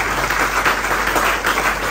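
Audience applause at a direct selling training session, a dense, loud burst of clapping sustained without pause.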